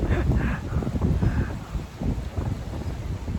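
Strong wind blowing outdoors, a heavy buffeting rumble against the microphone that gusts and eases over a few seconds, loud and close.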